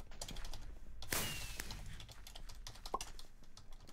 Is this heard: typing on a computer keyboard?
yes